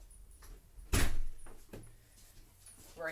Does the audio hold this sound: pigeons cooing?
no